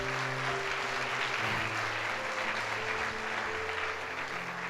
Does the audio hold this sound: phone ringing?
no